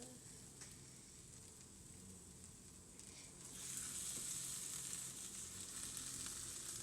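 Sunny-side-up eggs fry in a pan with a soft, steady sizzle that swells louder about halfway through, faint and close, with no talk.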